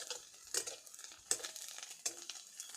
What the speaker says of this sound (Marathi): अर्धा चमचा लाल तिखट चांगलं परतून घ्यायचं आहे